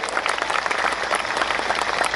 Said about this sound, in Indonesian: tepuk tangan untuk Az-Zahir